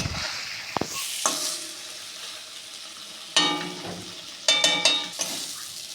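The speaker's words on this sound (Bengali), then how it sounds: "বন্ধুরা, মশলাটা ভাজা হয়ে গেছে।" Masala for a fish roe curry fries in oil in a pan, with quiet sizzling broken by a few sharper bursts of spitting and stirring, no talking.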